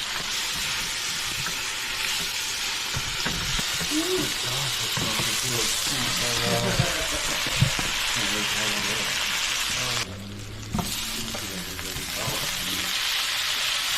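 Sauce poured onto onions in a hot skillet, a steady loud sizzle and crackle of frying that continues throughout with stirring scrapes, briefly dipping then resuming, while a person talks over it.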